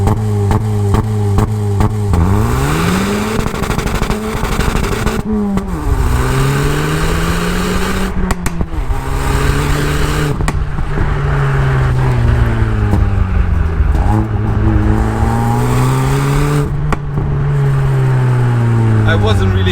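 A 2020 Ford Focus ST engine revs hard and loud up close, its pitch climbing and dropping through repeated gear changes with sharp breaks between pulls, sustained throughout.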